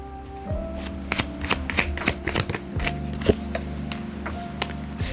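Tarot cards being shuffled by hand in a series of quick riffling and slapping bursts, close and fairly loud, with a low steady hum underneath and no talking.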